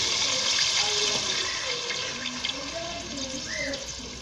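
Water pours and splashes into a pan of keema spiced with turmeric, salt and crushed ginger-garlic, a faint, steady rushing wash lasting a few seconds.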